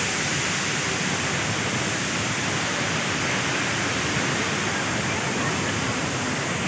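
Seven Falls roars as a dense, loud, unbroken wash of falling water close at hand, steady throughout with no pauses.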